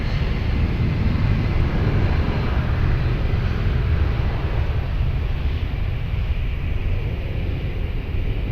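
Airplane taking off from runway 20 at Lisbon Airport, a loud, continuous low engine roar with a broad rushing rumble that holds steady and only slightly eases toward the end.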